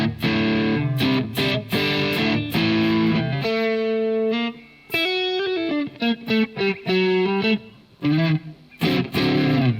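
Overdriven electric guitar played through a NUX MG30 multi-effects unit set for a live-gig overdrive tone, loud and alone, with chunky chords, sustained single notes and short pauses between phrases.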